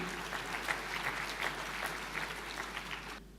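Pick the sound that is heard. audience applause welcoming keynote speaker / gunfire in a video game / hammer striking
audience applause welcoming keynote speaker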